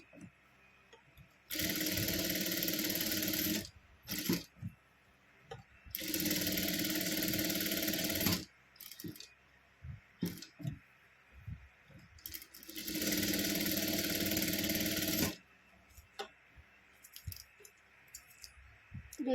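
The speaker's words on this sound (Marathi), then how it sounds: "तर आपण चारी बाजूने शिलाई करून घेऊ." An electric sewing machine runs in three long, steady bursts, stitching all around the edges of two layered pieces of cloth for a blouse tassel. Between the runs come quiet handling clicks and rustles.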